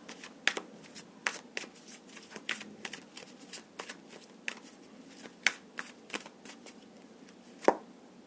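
A tarot deck is shuffled by hand, a close quick run of papery card riffles and snaps in uneven bursts, with no talking over them.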